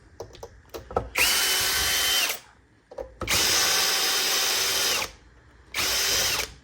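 Power drill backing screws out of an Xbox Series S, three loud whirring bursts of a second or two each, separated by brief pauses with small clicks and handling noises.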